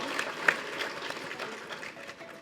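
Faint academic-ceremony applause for a university rector and community, a soft continuous patter of many hands with one sharper clap near the start, heard at a distance.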